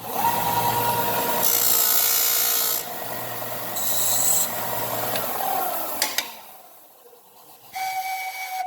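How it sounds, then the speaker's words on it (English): Power sander grinding a handmade pan flute pipe, a loud continuous rasping whir for about six seconds, then cutting off abruptly and leaving a quiet room with a brief faint tone near the end. "The tuner can't hear it over the sander there."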